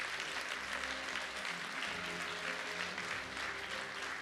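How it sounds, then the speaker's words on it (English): Audience at a Qatar Airways A350-1000 aircraft delivery ceremony applauds with continuous, even clapping, somewhat distant and soft, over a low hum. "A big round of applause so that the photograph is,"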